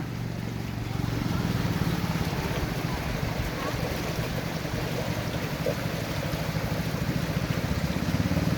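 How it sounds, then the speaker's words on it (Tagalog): A boat moves downstream along a river, its steady engine-and-water rush a constant broadband wash mixed with wind noise on the microphone, no voices. "Ayan na, may bangka na naman, pababa."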